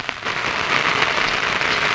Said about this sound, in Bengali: বৃষ্টিটা জোরে পড়ছে এখন